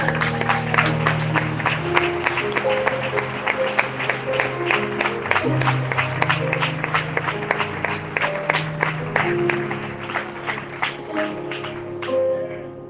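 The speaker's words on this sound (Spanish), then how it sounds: "Dale un aplauso al Señor." A church congregation claps in a steady, rhythmic beat, many hands striking together in time over sustained music-like tones, continuing for about thirteen seconds and fading toward the end.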